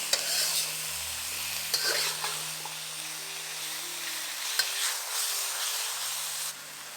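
Pork sizzling and frying in oil in a stir-fry pan with mushrooms, a steady broadband crackle close up, with a few sharp scrapes and clacks of stirring scattered through and no talking.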